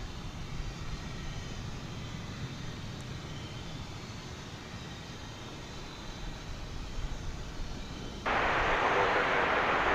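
A jet takes off from runway 36 right at Dallas Fort Worth airport as a steady, distant broad roar that suddenly grows louder near the end, with no talk.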